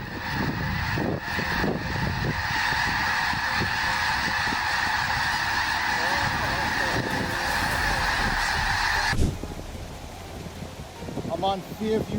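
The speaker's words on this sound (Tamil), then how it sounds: "வெளிநாட்டு பறவைகள் இடம்பெயர்ந்து இந்தியாவிற்குள் வந்துள்ளது" Migratory geese in a big flock honk in a dense, unbroken chorus for most of the span, then the calls cut off abruptly and a brief voice and other noise follow.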